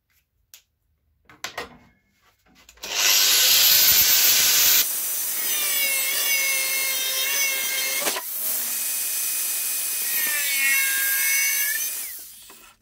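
Power saw cutting a piece of iron in a home workshop, for a homemade scroll saw: a few faint knocks, then a loud, steady, close grinding cut lasting several seconds with a brief dip midway, ending abruptly.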